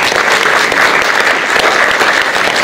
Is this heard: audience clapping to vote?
yes